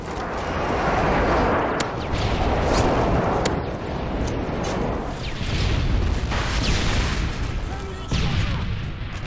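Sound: airstrike explosions in Call of Duty Modern Warfare 3 video game

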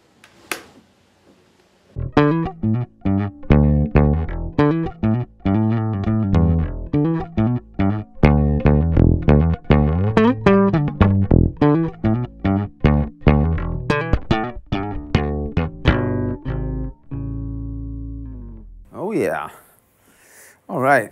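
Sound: bass guitar played through Axe integrator, no EQ or effects

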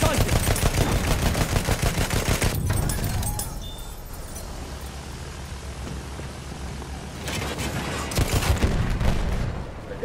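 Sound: machine gun fire in video game Battlefield 1

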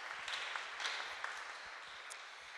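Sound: audience applause

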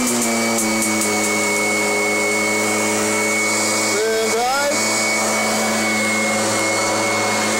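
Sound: Kirby vacuum cleaner running

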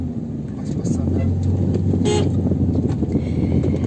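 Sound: car on a forest road

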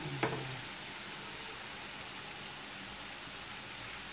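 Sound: çörek dough frying in hot oil

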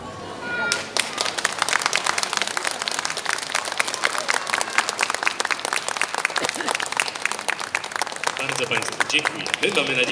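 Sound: audience applause after a children's show

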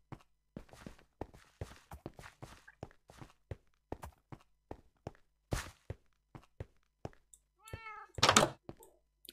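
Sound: cat meowing in the video game Minecraft

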